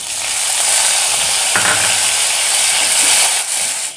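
Small shallots and tomato sautéing in a pan over a low flame, with a continuous bright sizzle and hiss, a sharp clatter partway through and a slight dip near the end.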